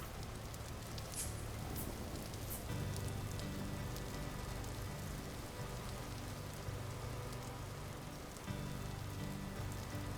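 Steady rain hisses without pause in the video game Vintage Story, a dense, even wash of falling drops with a few faint bright ticks and no voices.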